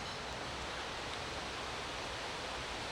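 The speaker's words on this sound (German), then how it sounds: "Das Rauschen von dem Fluss." A river rushes past a campsite in South Tyrol at night, a steady broadband roar with no breaks, close and fairly loud, heard on its own without any voices.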